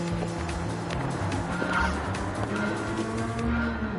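A racing car on soft tyres in a racing video game, its engine droning steadily with tyre squeal over a constant background, and no voices.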